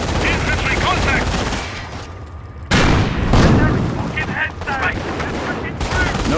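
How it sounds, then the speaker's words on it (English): A Panzer tank in the Company of Heroes video game fires its main gun in a few heavy, sharply separated blasts, loud and close, amid battlefield gunfire and clipped shouted voices. "Notice the Panzer's slow rate of fire."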